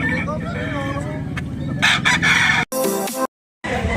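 A rooster crows loudly nearby, its call rising and trailing off, with clucking and other fowl sounds around it and a brief silent break.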